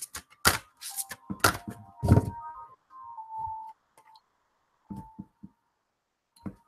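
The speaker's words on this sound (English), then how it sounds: "So let me do a few more shuffles." An oblong oracle card deck is riffled and tapped in several quick, crisp bursts separated by pauses, with a few soft thuds near the end.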